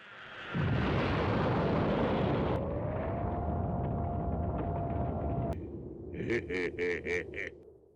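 A loud, sustained roaring explosion from an anime energy blast rumbles for several seconds, trailing into a whine, then a few short chirping sound effects follow.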